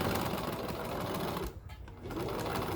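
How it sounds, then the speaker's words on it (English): A sewing machine runs steadily forward, stops briefly mid-seam for a reverse back stitch, then resumes its even mechanical whir, close and alone without talk. "sew forward, hold my reverse, sew back, sew forward again, keep going"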